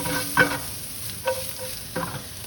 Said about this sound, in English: Once the shiitake mushrooms have been sauteed for a couple minutes, I'll go ahead and add the carrots. We'll saute that.